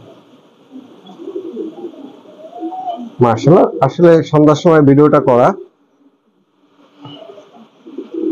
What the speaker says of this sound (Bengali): এই যে আমার পেয়ার কবুতরটা, মাদিটা